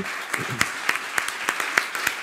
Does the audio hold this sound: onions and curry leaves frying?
no